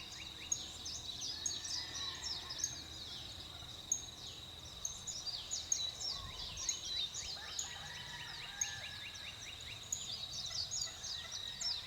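Several wild turkeys gobbling in the woods during a turkey hunt, repeated rattling gobbles from more than one bird at moderate distance, with faint insect or songbird sounds in the background and no talk.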